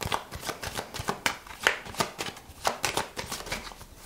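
Tarot de Marseille cards are shuffled by hand in quick repeated riffles and slaps, a crisp rhythmic flutter of bursts about every half second, close and clear, with no talking.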